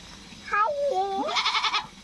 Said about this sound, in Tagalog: Is this goat?